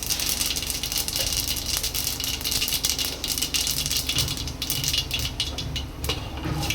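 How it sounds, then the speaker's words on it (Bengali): Mustard seeds crackling and spluttering in hot oil in a pan, a dense, continuous sizzle with rapid popping throughout, close and loud. "আমি এতে একটুখানি দিয়ে দেবো সর্ষে ফোড়ন, এই এতটার মতো সর্ষে ফোড়ন দিয়ে দেবো।"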